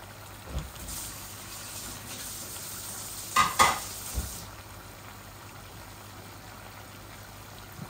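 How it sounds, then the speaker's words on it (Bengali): Tomatoes fry in a pan with a soft, steady sizzle, and a few scraping stirs of a spatula come through clearly in the first half. "এই আমি টমেটোটাও দিয়ে দিচ্ছি, একসাথে ভাজা ভাজা হয়ে যাবে।"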